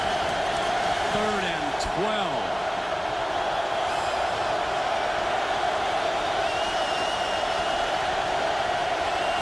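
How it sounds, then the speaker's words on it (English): Stadium crowd roar at the 2005 Texas vs. Ohio State football game, a loud continuous broadband wash filling the whole clip, with a commentator talking over it and a brief whistle-like call. "Listen to this crowd"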